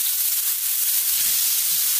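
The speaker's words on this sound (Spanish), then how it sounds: "Y vamos a pochar la cebolla." Chopped onion (one large or two small) hitting hot oil in a pan while cooking hake in green sauce, a steady, bright sizzling hiss that stays loud and even from start to finish.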